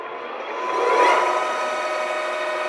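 A Lion 23MT manual lathe spindle powering up, a steady mechanical whir that swells over the first second as it ramps up, then holds a level hum with faint tonal whine, close by with no talk.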